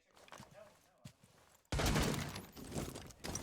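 Thatcher EMP grenades going off during a competitive Rainbow Six match, a sudden loud crackling burst after quieter moments, then a sustained noisy wash under a commentator's voice.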